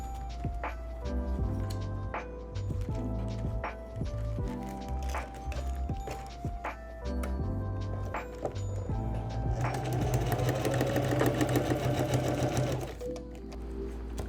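Sewing machine stitching a roll top dry bag of technical fabric for backpacking, running in steady bursts with short pauses, then one longer fast continuous run near the end, close and clear with no talk.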